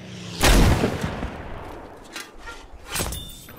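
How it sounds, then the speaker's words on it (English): A bazooka fires in the Battlefield V video game: one loud, booming blast near the start with a long rumbling tail, followed by fainter distant explosions and a later sharp crack. "I'm gonna try to get a bazooka snipe real quick."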